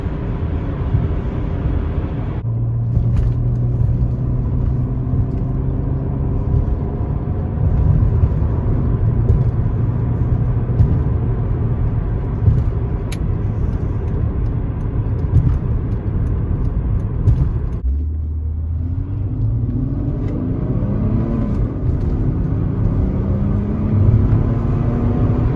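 A Mercedes C36 AMG engine drones from inside the car while driving, pulling through the gears with rising rev sweeps and a clear shift partway through, over steady road rumble with no talking.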